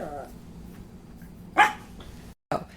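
Dog giving one short, sharp bark indoors, loud and close, with a brief yip after a moment of silence. Faint talk is heard at the start.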